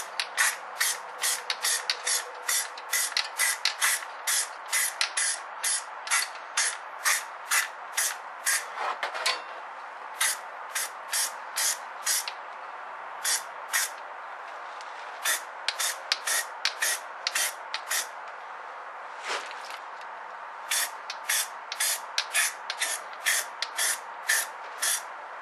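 Repeated short bursts of spray paint hiss in a steady rhythm as leaf spring brackets on a Cummins are painted, each spurt sharp and close, with brief pauses between them.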